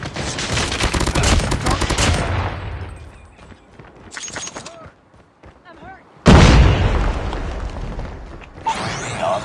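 In a Call of Duty match, a sustained burst of automatic gunfire fades out, then a sudden heavy Semtex grenade blast booms loud and close, followed by more shooting; voices call out over the action.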